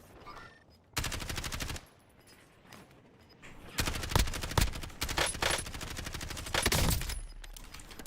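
Gunfire in the video game Call of Duty Warzone Resurgence, with loud bursts of rapid automatic fire in several stretches, separated by quieter gaps and scattered single shots, close and dominant.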